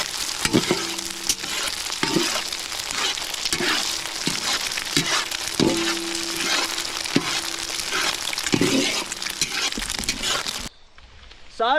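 Pre-fried chicken sizzles steadily in a hot pan for Schezwan chicken fried rice, with repeated scraping stirs and metal clanks at a close distance and no talking.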